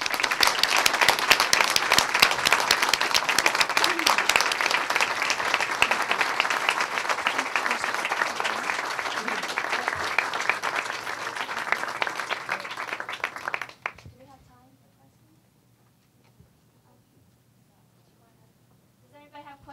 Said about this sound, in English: Please join me in a final round of applause for our writers.